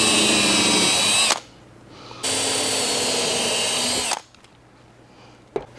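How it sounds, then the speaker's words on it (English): Power drill boring a small pilot hole into wood for a shadow box, two loud sustained whining bursts of about a second and two seconds, separated by a short pause, up close with no talking. "Just going to give myself a small little pilot hole"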